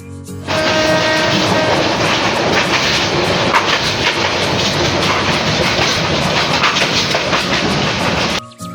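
Inside the Brahmaputra Express passenger train on the Dewanganj to Dhaka route, a loud, continuous rumble and roar of the moving train fills the whole stretch, with rhythmic rattling and no talk.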